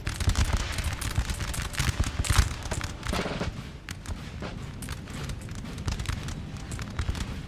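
Musket volleys crackle across a Napoleonic battlefield in Napoleon Total War, with dense, overlapping bursts of gunfire and dull booms that rise sharply around the two-second mark, then continue as a steady rolling clatter.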